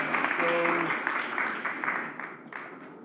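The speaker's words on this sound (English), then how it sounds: "Let's give them another very big hand clap." Audience applause at the East Africa Story Telling Festival 2022 rises at once and then gradually thins over about three seconds, with a brief faint tonal sound near the start.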